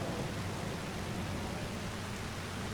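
Rain with thunder from Farming Simulator 25, a broad steady wash of rainfall with a low rumbling undertone, quiet and even throughout with no voices.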